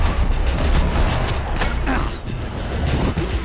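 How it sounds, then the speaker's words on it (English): Dense explosion rumble and rapid gunfire in the Max Payne 3 video game, a loud, continuous barrage of booms and shots with deep low-end rumble throughout. "I need to get out of the way of the explosion faster."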